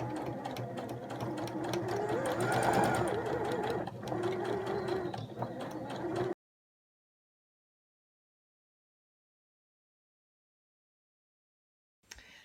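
A sewing machine stitches slowly around a fabric scrubs hat, running a steady close mechanical whir for about six seconds before it stops into silence.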